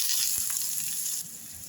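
Mustard seeds, cumin and finely chopped onion hit hot oil for tempering, a bright continuous sizzle up close that eases slightly near the end, with no talking.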